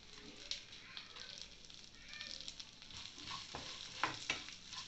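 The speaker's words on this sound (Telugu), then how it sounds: "ఇవన్నీ ఫ్రై చేసుకోవాలి." Dal and green chillies frying in a pan: a soft, steady sizzle with occasional stirring scrapes and small crackles, fairly faint and close, with no talk.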